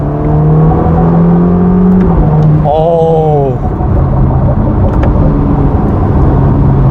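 Ferrari Roma with its 3.9-litre twin-turbo V8 pulling hard under acceleration, engine tone climbing through gear changes with a brief shift break, loud and continuous inside the cabin.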